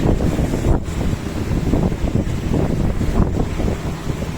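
Sailing a boat at sea off the Peloponnese near Pylos, with steady roaring wind buffeting the microphone over a continuous wash of waves against the hull, loud and unbroken throughout, no voices.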